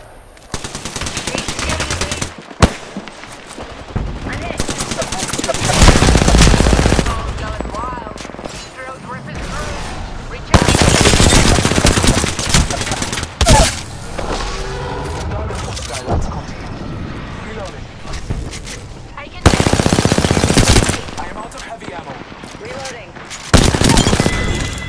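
Rapid automatic weapon fire in the Apex Legends battle royale game comes in loud repeated bursts separated by quieter gaps, with occasional in-game character voice lines between the volleys.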